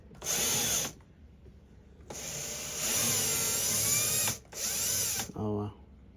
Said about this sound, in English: The next step is to unscrew the 2 screws holding the pin system